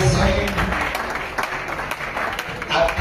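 A congregation at a wedding celebration claps continuously in a dense wash of applause, with voices talking over it.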